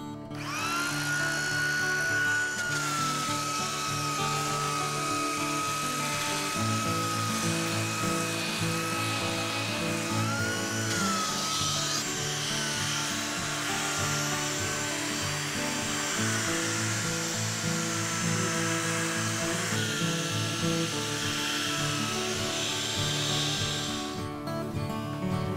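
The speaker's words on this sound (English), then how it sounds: "You can just use a nice little handheld belt sander." A handheld belt sander works across a laminated wood table, producing a loud, steady grinding whine with shifting tonal edges that runs unbroken for the whole stretch, with no voices.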